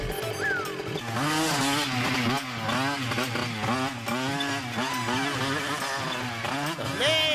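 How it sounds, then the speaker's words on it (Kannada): Cartoon motorbike engine revving loudly and speeding up, a continuous buzzing whine whose pitch swoops up and down in repeated surges over about seven seconds, with no talking. "ಪತ್ಲು, ಸ್ಪೀಡ್ ಜಾಸ್ತಿ ಮಾಡ್ಲೇನಾ?"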